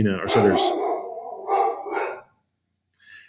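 A dog barks in a quick cluster of loud, close barks, followed by a pause and then one more short bark.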